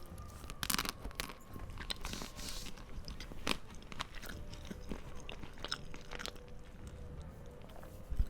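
Frozen Jaffa Cakes are bitten and chewed close up in a whispered setting, giving repeated crisp crunches and wet chewing with occasional louder bites and no speech.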